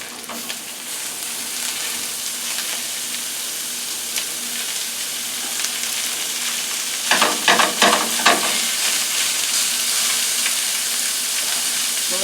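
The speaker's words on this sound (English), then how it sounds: "so now I'm going to add the ground beef" Ground beef fries in a pan for spaghetti meat sauce with a steady, loud sizzling hiss throughout, briefly broken by a few scraping, clattering stirs near the middle before the sizzle carries on.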